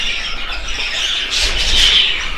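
Young birds squawk and squeal in shrill, continuous calls, close and moderately loud with a brief louder burst near the end, no talking.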